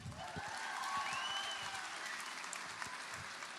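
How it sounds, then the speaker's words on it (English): An audience at a graduation ceremony breaks into a round of applause right after a sung alphabet song, steady clapping filling the room for a few seconds with no talking. "Round of applause."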